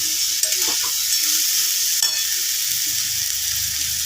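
Crushed Maggi noodles sizzle steadily in a hot pan while being stirred for a Mughlai-style dish, with a continuous fry hiss and a few soft scrapes and clinks of the spatula.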